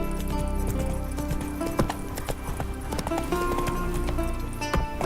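Roach, the horse in The Witcher 3, gallops in a rhythmic run of hoofbeats with a brief whinny, heard over game music and ambient sound.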